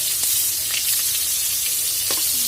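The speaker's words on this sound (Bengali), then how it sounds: "তেলটা গরম হয়ে গেছে এবারে আমি পটলটা দিয়ে দিচ্ছি লাল লাল করে ভাজা হবে" Loud, continuous sizzling of pointed gourd frying in hot oil, a dense hiss with a couple of faint clinks, heard up close without talking.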